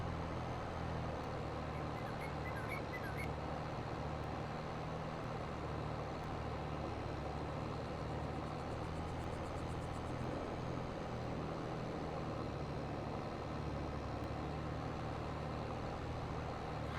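Steady low drone of a Kenworth truck engine in Farming Simulator 22, idling or running at the grain bins, a constant faint rumble with no voices.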